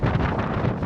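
Cold wind on the summit of Pico do Arieiro in Madeira batters the microphone in a dense, loud, unbroken rumble with no speech.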